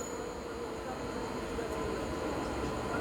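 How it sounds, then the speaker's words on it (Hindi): Kakinada Port–Sainagar Shirdi Express overtaking on an adjacent Indian railway line, a steady, loud rumble of wheels and carriages rolling past continuously throughout. "सो यहाँ फ़िलहाल आ चुके हैं काकीनाडा पोर्ट साईनगर शिरडी एक्सप्रेस, जो कि हमें ओवरटेक मारेगी।"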